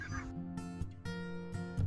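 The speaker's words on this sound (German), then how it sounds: "Knapp 3000 Weißwanggänse und ein paar Blässgänse." A large flock of barnacle geese mixed with a few white-fronted geese calling from a field, dense overlapping honks and yelps, loud and continuous.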